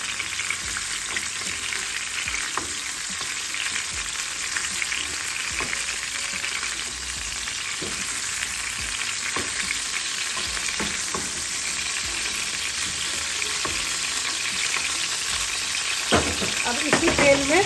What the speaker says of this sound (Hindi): दो मिनट में प्रॉन फ्राई हो गया।